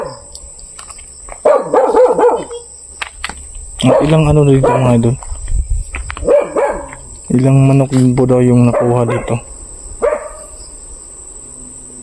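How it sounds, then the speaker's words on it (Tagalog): A dog barks loudly and repeatedly near a rural hut at night, in bursts of several barks, while someone talks over and between them. "Pero may aso eh. Ang ingay."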